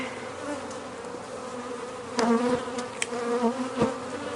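Honey bees buzz steadily around an open hive, a close, layered drone with individual bees flying past the microphone and swelling louder for moments.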